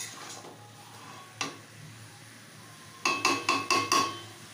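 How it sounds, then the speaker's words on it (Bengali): Mutton stir-fried with spices in a pot, a quiet bed of faint sizzling broken by a single knock and then a quick series of five sharp clanks of a utensil against the pot, with no talk. "মটনটা দিয়ে ভালো করে মশলার সঙ্গে অনেক সময় ধরে কষাতে হবে, এইভাবে কষতে থাক।"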